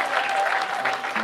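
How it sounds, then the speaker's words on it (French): A church congregation applauding during a wedding blessing for a Chinese couple, a dense, steady burst of clapping from many hands filling the room, with a voice faintly heard under it. "Est-ce qu'on peut acclamer pour le Seigneur?"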